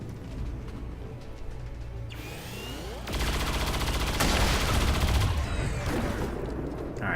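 Gunfire aimed at a mech in XCOM 2, with a mechanical whir and sweep leading into dense bursts of rapid shots, loud and sustained, over a low background rumble.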